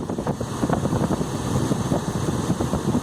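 Engine of a 2007 Mazda B3000 pickup running steadily with the hood open during an alternator test, a close, loud, continuous rumbling idle with a faint high whine above it.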